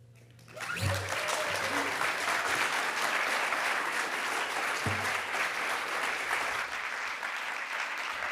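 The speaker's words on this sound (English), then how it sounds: "let's have another round of applause for Gareth and Joe." An audience breaks into sustained applause, a dense wash of clapping that swells quickly and holds steady, with a brief voice near the start.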